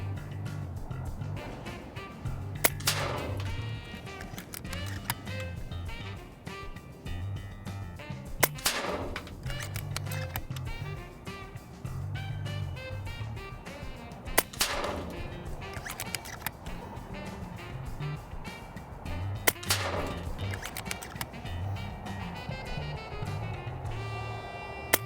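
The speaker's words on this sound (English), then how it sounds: "What we're gonna do is shoot 5 shots downrange at 50 yards." A BRK Pathfinder compact PCP air rifle fires five shots downrange at a 50-yard target outdoors, each a sharp, short crack spaced several seconds apart over a low background hum.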